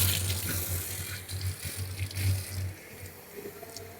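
Water splashes and runs steadily for about three seconds, like pouring from a tap into a sink, then tapers off into quieter room noise with a low hum.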